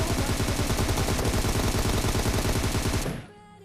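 Rapid automatic gunfire in a shooting video game, a dense, continuous burst of close, loud shots lasting about three seconds before cutting off abruptly.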